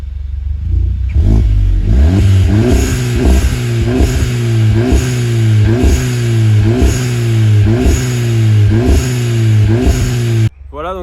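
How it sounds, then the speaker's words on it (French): From inside a Volkswagen Golf, the engine revs loudly and repeatedly in a regular cycle, each blip rising and falling for about ten seconds before cutting off abruptly. "Je vais en profiter d'être à l'intérieur pour vous faire écouter le son en intérieur tout simplement du véhicule."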